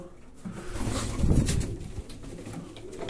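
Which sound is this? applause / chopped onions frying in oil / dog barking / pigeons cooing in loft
pigeons cooing in loft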